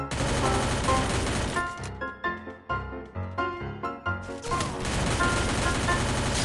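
Rapid automatic gunfire in the video game Free Fire rattles in dense bursts, pausing briefly for a run of separate single shots before the sustained firing resumes.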